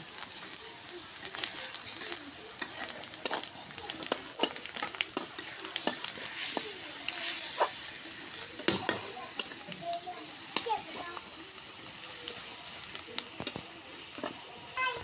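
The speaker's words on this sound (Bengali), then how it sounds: "এবার আমরা পাঁচ ফোড়ন আর একটু জিরা দিব" Panch phoron and cumin seeds crackle and sizzle in hot oil for a vegetarian vegetable dish, a steady close hiss broken by frequent scraping stirs of a spoon against the pan, with no voices.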